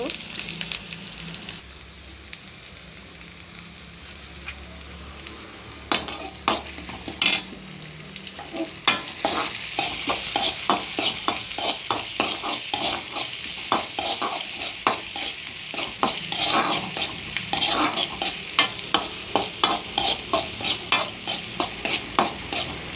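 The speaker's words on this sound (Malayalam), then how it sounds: "ഉള്ളി, കറിവേപ്പില എന്നിട്ട് നന്നായി ഇളക്കിയിട്ട്" Mustard seeds, onion and curry leaves sizzle in hot oil in a pan while a spoon stirs them in quick, rhythmic scrapes, the frying hiss growing louder and steadier as the stirring continues, close and alone.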